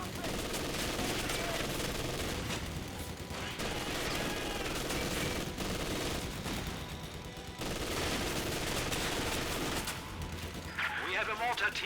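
Machine gun fire in the Company of Heroes 2 video game: dense, sustained bursts of automatic fire and distant battle noise continuing throughout, with commentators talking over it.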